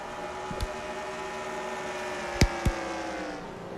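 Race cars in a Featherlite Sportsman Series stock car race roar past on the track with three laps to go, a steady engine drone broken by a few sharp, loud passes up close, with brief swells as individual cars go by.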